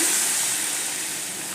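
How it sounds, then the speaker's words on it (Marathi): Hot water poured into a frying potato curry with no ground masala, a loud steady broadband hiss and sizzle throughout, fading slightly toward the end, with no voices. "याच्यामध्ये पाणी घालायचं आहे पण हे पाणी गरम करून घालायचं"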